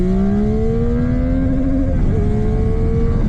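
A motorcycle engine holds on throttle during a wheelie, its steady tone climbing in pitch and then dipping briefly before settling, loud and close with continuous road and wind rush.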